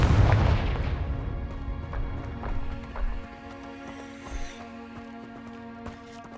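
A Confringo fire spell in Hogwarts Legacy bursts in a deep, booming blast up close at the start, then rumbles away, followed by a few softer thuds and impacts at irregular intervals over a low game hum.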